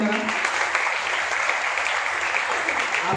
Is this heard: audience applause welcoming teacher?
yes